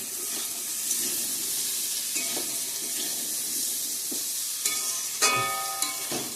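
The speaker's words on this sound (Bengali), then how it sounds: "ভালো করে মশলার সঙ্গে ভেজে নিয়ে" Ground chili, cumin and coriander powders fry in a pan for ghugni, giving a steady low sizzle with intermittent scraping stir strokes and a few sharper clanks near the end.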